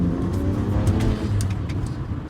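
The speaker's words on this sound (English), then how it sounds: "Right here we have a BMW 335, and this one features the wonderful refined N55 single turbo twin scroll engine." A BMW 335 with the N55 single-turbo twin-scroll inline-six runs nearby, a smooth steady engine hum with a slight rise in revs, no voices over it.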